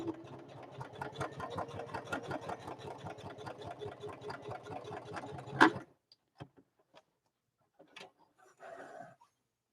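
A sewing machine stitches a zippered bag in a fast, steady run of needle strokes for about five and a half seconds. The run stops abruptly, leaving a few faint clicks and handling sounds.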